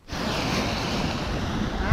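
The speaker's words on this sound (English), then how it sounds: "The big waves come." Big waves break and wash along a rocky shore in brutal cold, a continuous rushing roar mixed with wind buffeting the microphone, swelling louder at the end.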